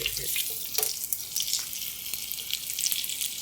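Dried fish, daing or tuyo, fries in a shallow layer of oil, giving a steady close sizzle and crackle with no talking.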